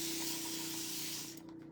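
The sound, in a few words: spraying water onto a craft project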